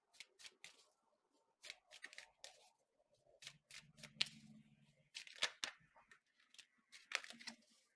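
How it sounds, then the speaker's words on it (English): A deck of tarot cards is shuffled by hand at close range, giving repeated quick riffling bursts and soft slaps in short irregular clusters, with brief pauses and a faint low murmur between them. "I'm going to shuffle again"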